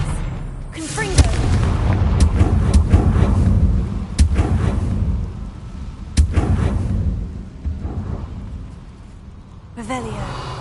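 Spell blasts from Hogwarts Legacy, including a Confringo fire explosion: a few sharp booming bursts spread through ten seconds of busy game noise, loud and close, with talk running underneath.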